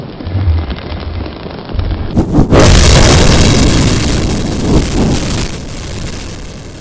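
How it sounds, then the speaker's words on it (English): A burst of fire spat from a creature's mouth erupts after a quieter opening, a loud roaring whoosh that sustains and slowly fades, with a rumbling, storm-like body like a fireball explosion. "The Hell Beaver spat forth a ball of fire."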